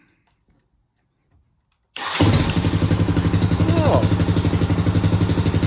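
A 2022 Kawasaki KLX140RF dirt bike with a 170cc big bore kit, sitting on a workbench without choke, fires up after silence and settles into a loud, steady, pulsing idle. A voice gives a short exclamation.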